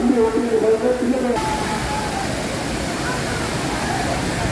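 Five Falls at Courtallam roars as a steady, loud wash of falling water in a crowded bathing spot, with a voice talking over the rush at the start.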